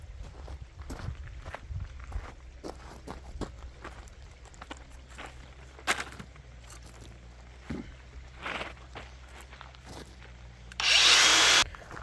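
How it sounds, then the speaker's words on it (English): A power tool cuts off metal U-bolts on a gate latch outdoors, with a steady low hum broken by scattered clanks and scrapes, ending in a short, loud burst of high grinding. "Now I got to cut those other U-bolts off there"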